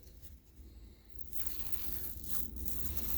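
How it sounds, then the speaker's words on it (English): Masking tape is peeled carefully off the edges of burgundy cushion cover fabric, a soft, close tearing and crinkling that grows slightly louder partway through; overall quiet. "remove all of the tape"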